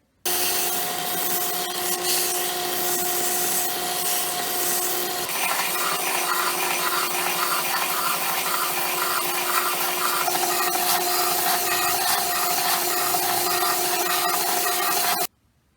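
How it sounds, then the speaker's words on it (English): Wooden knuckle dusters carved as a skull have their corners sanded round, giving a loud, continuous, steady grinding rasp with a humming whine that shifts slightly in pitch midway, lasting about fifteen seconds. "I'm going to sand down these corners and make it more round so it has more of an oval or egg shape to it"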